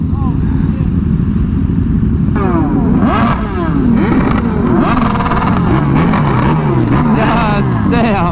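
Motorcycles at a large bike meet rev repeatedly, with rising and falling engine whines overlapping over a loud, constant drone of idling bikes nearby.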